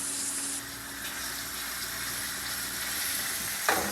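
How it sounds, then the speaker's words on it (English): Minced garlic fries with onions in a pan, giving a steady, close sizzle with a brief stirring scrape near the end, and no talking. "So let me go ahead and add the garlic."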